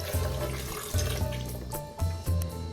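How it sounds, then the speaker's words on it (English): Half a cup of water is poured for vegan blueberry muffins, giving several short, close splashing pours in quick succession, heard alone without talk. "Next, I have a 1/2 cup of water."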